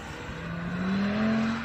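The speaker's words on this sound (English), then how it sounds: "when you stamp on the throttle, that rear differential does its job and really starts to drive the rear axle round" An Audi RS3 pulls hard under full throttle, a close, steady engine tone climbing in pitch as it accelerates, with no voices.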